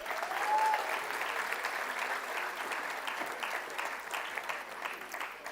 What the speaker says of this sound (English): Let's clap for Pratishtha.